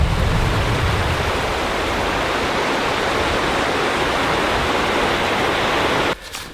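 The Buffalo River in Arkansas rushes loudly and steadily in winter, a dense broadband roar of fast water close by that cuts off abruptly near the end.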